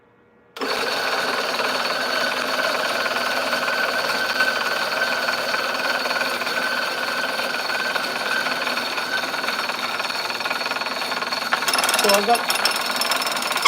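Electric coffee grinder grinding house-roasted coffee beans, a loud, steady whirring grind close by that starts abruptly and runs continuously, with a voice briefly over it.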